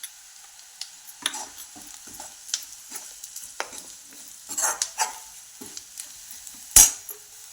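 Spoon scraping and stirring moth beans with turmeric, red chili and coriander powder sizzling in hot oil in a pan, a steady fry hiss broken by irregular close scrapes and one sharp clink near the end.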